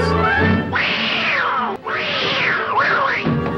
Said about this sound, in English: The only thing you think about when you hear that sound is a real-life cat getting hurt.